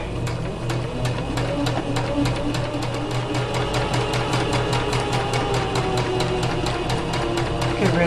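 A sewing machine running steadily forward at a 5/8 seam allowance, a loud continuous motor whir with rapid, evenly spaced needle strokes, heard alone.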